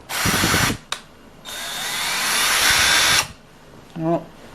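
A Bostitch cordless drill or impact driver runs in short bursts: a brief whir, a quick blip, then a longer steady high whine that ends abruptly, followed by a voice.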